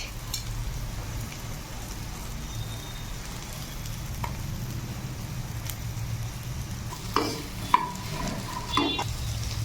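Carrot and cabbage stir-frying in a pan for homemade egg fried rice, a steady low sizzle with soft stirring scrapes and a few sharper utensil clinks near the end, no voices.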